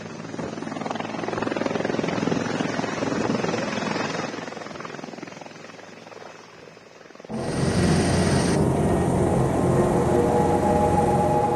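An H225M Caracal helicopter's rotor and engine roar loudly, fading somewhat, then returning stronger and closer with a sharp jump in volume.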